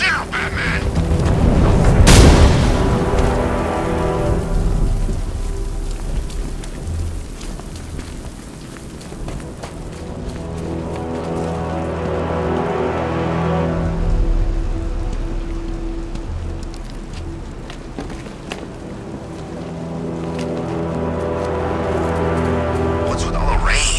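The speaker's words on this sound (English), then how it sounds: "What's with all the rain?" Steady rain hissing in Batman Arkham Knight gameplay, with a sharp thunder-like boom near the start and sound effects and speech mixed in.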